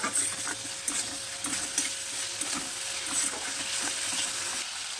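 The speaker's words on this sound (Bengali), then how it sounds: "এবার চিকেনটাকে ভালো করে রান্না করে নেব।" Chicken pieces stir-frying in a hot pan with pepper, salt and soy sauce, giving a steady close sizzle broken by brief scrapes and clinks of a spatula, with no talking.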